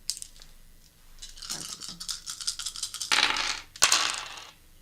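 Dice clatter and rattle as they are rolled for a dice battle game, with a rapid jumble of hard clicks followed by two bright skittering bursts, close and loud with no talk.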